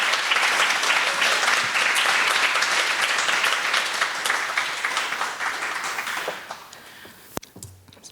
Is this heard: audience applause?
yes